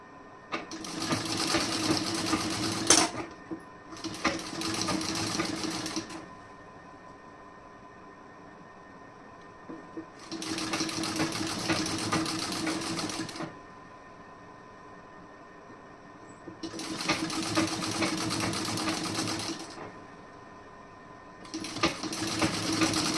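A sewing machine runs basting stitches on a blouse in four long bursts separated by quiet pauses, steady and close, with no talking.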